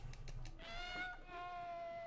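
A house cat's meow used as a pixie sound in the Harry Potter PS1 game, a single drawn-out tonal cry preceded by a few soft thumps, heard close.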